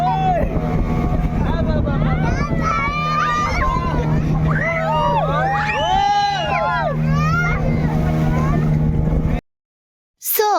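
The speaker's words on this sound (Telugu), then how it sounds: "ఇక్కడైతే బోట్ చాలా ఊగుతుంది" A motorboat crosses rough water where a river meets the sea near Pondicherry, its engine droning steadily beneath wind buffeting and lively chatter and shouts from passengers, before a brief cut to silence.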